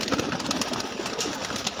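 Golden pigeons cooing, soft and close, set within a dense, steady bed of background noise.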